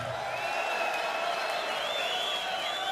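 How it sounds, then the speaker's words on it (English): A ringside boxing crowd applauds and cheers a new Boxing Hall of Fame inductee, a continuous wash of clapping and crowd noise with a sustained whistle-like tone riding over it. "A round of applause for the new member of the Boxing Hall of Fame"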